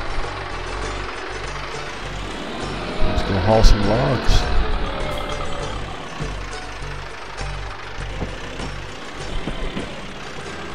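A tractor in the Farming Simulator 22 logging game drives with a steady low engine rumble and some clunks. Someone talks over it.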